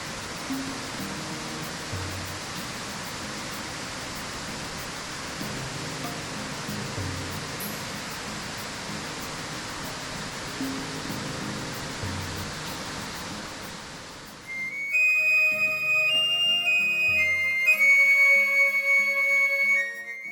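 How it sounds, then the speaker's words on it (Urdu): Constant roar of water falling from waterfalls in Birir Valley, Chitral, a dense steady wash of noise that runs unbroken before abruptly giving way to music. "آبشاروں سے گرتے پانی کا شور"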